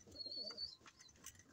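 Fancier's pigeons cooing softly nearby, a couple of low throaty coos with faint chirps, quiet and brief.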